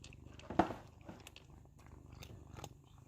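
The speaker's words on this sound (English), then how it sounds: "Rihanna, is the crunch the way you need it to be?" A cat crunches dry treats close by, one sharp loud bite followed by softer chewing crackles in a quiet room.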